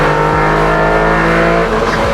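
A small car engine revs hard, a loud, high droning whine that climbs and dips slightly, close up and continuous.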